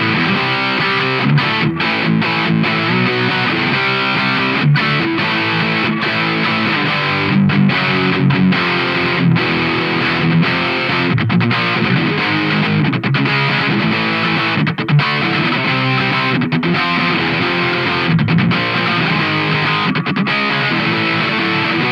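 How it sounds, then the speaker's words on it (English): Electric guitar played through a Boss DF-2 Super Feedbacker & Distortion pedal, a dense, continuous overdriven tone with chugging riffs and short gaps between phrases, loud and close with no talking. "I think it's a good distortion pedal in its own right."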